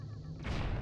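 A bomb goes off in The Legend of Zelda: The Wind Waker, a sudden broad boom about halfway through that follows a low steady hum. It is one close, muffled blast that rolls on briefly.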